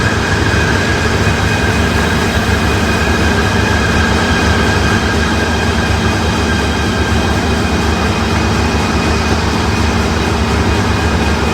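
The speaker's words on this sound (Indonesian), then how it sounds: "tiba-tiba ada kereta ITS, teman-teman, datang dan tiba di stasiun Segamat ini" A train arriving at Segamat station in Malaysia, a loud, steady, close rumble with a faint high whine throughout and no talk.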